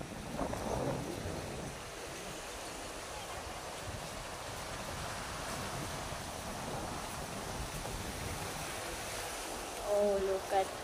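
Steady wash of ocean surf with wind rushing across the microphone, continuous and fairly loud, with a brief bump of noise near the end.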